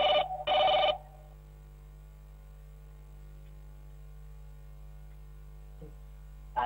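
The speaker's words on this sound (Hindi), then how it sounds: "बताइए, पहला फोन कॉल किसके साथ जोड़ रहे हैं" A telephone bell rings in two loud bursts at the start of a phone link-up to a political event with BJP workers, followed by a long stretch of steady mains hum and near silence.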